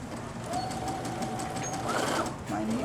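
Sewing machine stitches a shadow applique, a rapid steady whirring and clatter heard close, with quiet talking mixed in.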